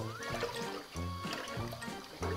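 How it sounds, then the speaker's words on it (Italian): Homemade liquid laundry detergent is stirred in a pot on the boil, giving a sloshing, gurgling liquid sound in uneven strokes, close by, with no talk. "Lo giro per farlo sciogliere, ma bastano proprio pochi minuti da quando bolle"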